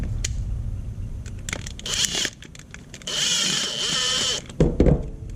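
Small screws being driven back in by a power driver during a volume fix kit installation, close and fairly loud, with two sustained whirring bursts separated by handling clicks and rattles, no talking.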